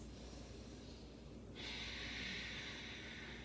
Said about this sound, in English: Let's stay again for just 2 more deep breaths.